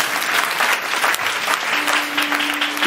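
Church congregation applauding steadily, a dense wash of clapping that continues without pause for about three seconds, with a faint sustained tone entering near the end.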